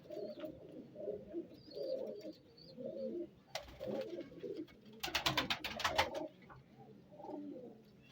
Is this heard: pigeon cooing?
yes